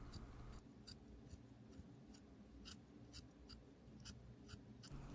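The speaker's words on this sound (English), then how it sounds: "with some scissors, I'm just gonna cut a little bit of that extra yarn dust" Scissors snip away extra beige yarn on a pink Little Live Pets toy bird, making a steady series of about a dozen faint, crisp clicks in a quiet room.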